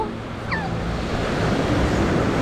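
Sea waves at Quy Nhon beach in Vietnam wash in as a loud, continuous rushing surf with wind buffeting the microphone and a brief high chirp early on.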